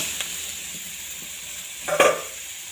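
Cut potatoes hit a hot pan with green chili and are stirred, giving a steady soft sizzle with a brief louder scrape of stirring near the end, no voices.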